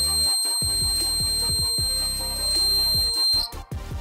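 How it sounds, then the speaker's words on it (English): A small piezo buzzer rated for 3 to 24 volts DC, wired with correct polarity, sounds in a series of short, loud, closely spaced beeps. The beeps come in clear bursts with brief gaps, close to the microphone and with no talk over them. "This is a small buzzer, activated by 3 to 24 volts DC"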